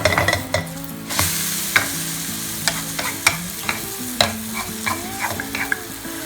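A cha-om omelette fries in a pan, a steady close sizzle of oil with repeated sharp scrapes and taps of a spatula against the pan.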